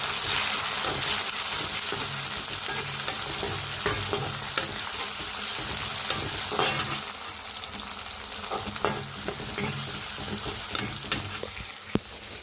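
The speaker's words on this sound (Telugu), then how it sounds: "ఇలాగైతే ఫ్రై చేస్తున్నాను" Vegetables fry in hot oil in a pan with a continuous close sizzle, punctuated by repeated clicks and scrapes of a spoon stirring them.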